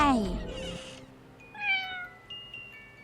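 A cat meows several times in the video game Fausts Alptraum, with a few clear rising calls after some background noise and chatter at the start.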